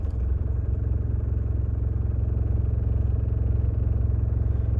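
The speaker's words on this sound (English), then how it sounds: "we'll fire the engine up in a moment" A car engine runs at a steady, loud idle with a continuous low rumble and light clatter throughout, close by and with no voices.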